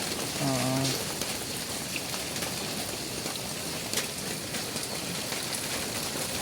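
Heavy rain falls during Cyclone Remal as a steady, dense hiss of drops all around, with a brief voice near the start.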